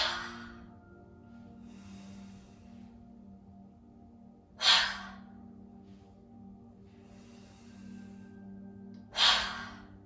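Two strong, breathy exhales about four seconds apart during a guided tai chi session, close and loud, with quieter inhaling in between over a steady low room hum.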